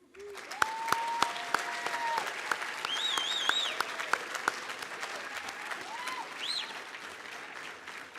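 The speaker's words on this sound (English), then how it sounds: "please join me once again in a round of applause." An audience at an educator recognition ceremony claps continuously, a dense round of applause with a few sharper claps standing out, while faint musical tones play behind it.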